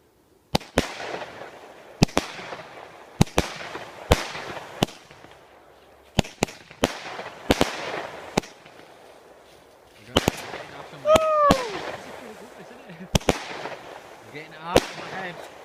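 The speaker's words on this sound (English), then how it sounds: "This is the 10-second firework." Bonfire Night fireworks, including a 10-second firework and a 23-round burst, go off in a rapid series of sharp, loud bangs and crackles with short echoing tails, some whistling launches, and brief background voices.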